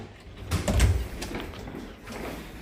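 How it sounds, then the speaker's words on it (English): A front door opens on New Year's Eve in Chiang Mai, Thailand, with a couple of close, dull clunks and a rattling slide, followed by quieter handling noise. "Open the front door."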